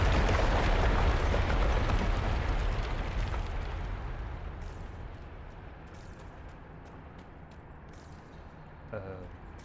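Big explosion in the video game Dragon Age Inquisition, a loud broad roaring blast that slowly decays into crackling rumble and debris, followed by a faint clatter near the end.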